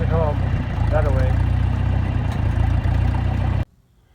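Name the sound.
farm tractor engine running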